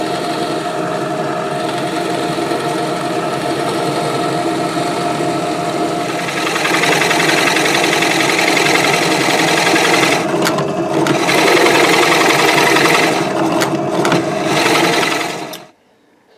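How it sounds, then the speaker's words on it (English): Forstner bits drill out the cavity of a headless guitar body with a continuous loud whirring drone that grows coarser partway through, then winds down and stops at the end. "So we'll just do that now with the Forstner bits, clear that out and get ready to route out the cavity."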